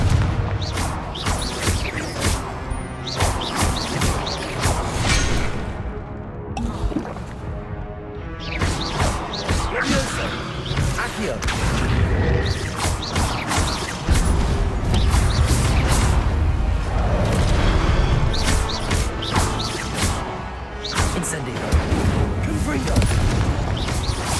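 Spell effects from the video game Hogwarts Legacy, including Incendio, Accio and Confringo, erupt as loud, dense bursts, booms and crashes in rapid succession, with a voice calling out over the constant barrage.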